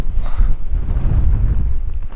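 Wind blowing across an exposed Dartmoor hilltop, a steady low rumbling buffet against the microphone that holds for the whole stretch without letting up.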